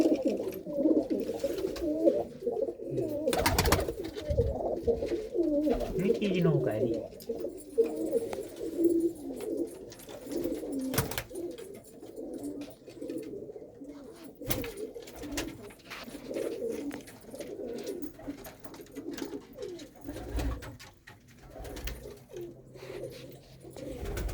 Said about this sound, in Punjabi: ਲੋ ਬਾਈ ਇਹ ਦੇਖੇ ਤੁਸੀਂ ਬਾਈ ਦੇ ਕਬੂਤਰ